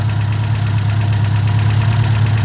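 A Ford Escort MK1 panel van engine idles with a freshly replaced PCV valve, giving a steady, even low rumble close by with no talking.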